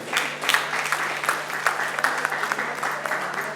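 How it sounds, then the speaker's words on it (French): Audience applause at the Bellevue Awards ceremony after the best actress of the year is named, a steady mid-loud patter of many hands with a constant low hum beneath and no voices over it. "Encore des applaudissements pour elle"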